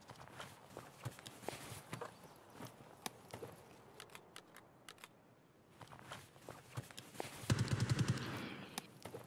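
Faint bursts of gunfire ring out in the video game Escape From Tarkov, scattered cracks and distant-sounding shots under low background noise with a louder rattle near the end.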